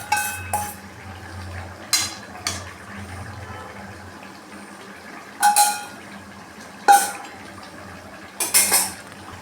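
Chicken and capsicum being stir-fried in a kadai, with a spatula scraping and knocking against the pan in occasional clinks over a low, steady sizzle; no talking.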